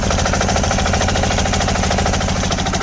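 A Bolens HT-23 tiller engine with several exhaust leaks runs loud and steady with a rapid, hard popping chatter throughout, like a rough exhaust firing close by.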